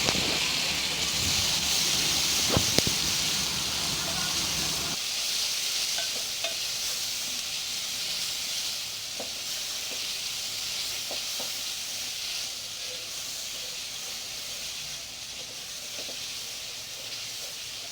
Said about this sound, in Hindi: अब हम यहाँ पे ऐड करेंगे टमाटर।